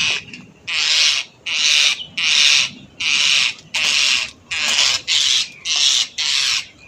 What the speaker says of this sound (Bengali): ওই তো পাখি।